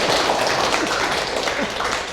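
A studio audience applauds a guest at a Korean talk show, steady dense clapping filling the whole stretch without pause and without any talk over it.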